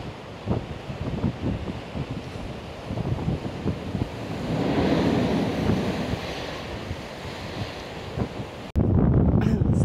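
Ocean waves surging and crashing through the Quobba blowholes on the Ningaloo Coast, a loud rushing wash building steadily, with heavy wind buffeting the microphone and a sudden louder burst near the end.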